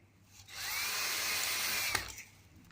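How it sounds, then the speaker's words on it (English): A power drill whirs steadily for about a second and a half, close by, drilling a hole for a lighting circuit switch, then winds down with a brief clunk at the end. "When I'm drilling this, make sure you take your time"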